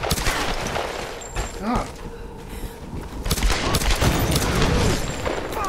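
Gunfire in Tomb Raider, a dense fusillade of shots and booms rumbling continuously with a person talking briefly over the shooting.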